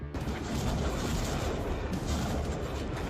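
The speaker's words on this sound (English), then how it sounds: "the vehicle initiates its assault by firing a series of rockets." A Russian Grad multiple launch rocket system fires a series of rockets in a combat zone, a loud continuous roar of launches and blasts filling the whole stretch with no pause.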